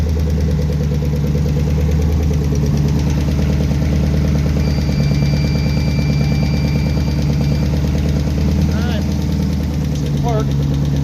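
A newly swapped Gen III car engine idles with a steady, loud, close drone and a slight uneven knock, running continuously throughout.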